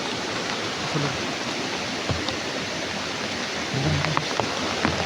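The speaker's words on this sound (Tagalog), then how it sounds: "Ulan. Suping ulan." Heavy rain pours in a constant rushing hiss, with a low rumble and a few faint voices underneath.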